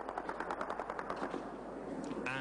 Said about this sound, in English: Dawn in Aleppo brings the clatter of gunfire above.